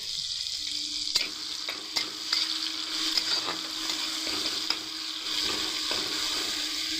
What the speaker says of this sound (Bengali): টমেটোটা যতক্ষণ না ভালো করে গলে যায় ততক্ষণ কিন্তু আমরা ভালো করে কিন্তু ভেজে নেব